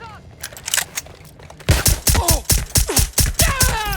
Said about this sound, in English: Gunfire over here!